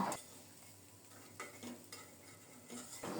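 Drumstick curry being stirred in a pan over low heat, with soft scraping strokes and a faint, steady sizzle throughout, quiet and close with no talking.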